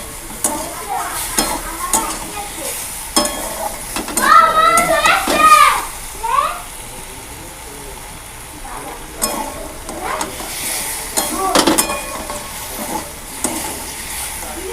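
Spices sizzle and get stirred in a hot pan for a vegetable curry, with scraping and clattering of the spoon over a steady fry, while a voice and children's chatter come and go in the background.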